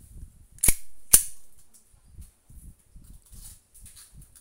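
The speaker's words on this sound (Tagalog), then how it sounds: "this is the Glock 19 na John Wick Gen 3 by ENC" Two sharp, loud cracks from an E&C airsoft Glock 19 pistol fired half a second apart, followed by faint clicks and low rustling.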